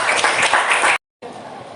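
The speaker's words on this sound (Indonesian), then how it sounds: "Kita aplaus dulu untuk semua." Classroom applause at SMAN 1 Gorontalo: a brief burst of dense clapping from students, cut off abruptly, then a quieter continuation of clapping.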